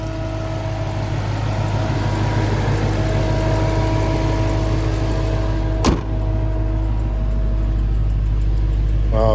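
Supercharged Corvette Z06 engine and exhaust idling, a steady loud low drone with a sharp brief knock partway through.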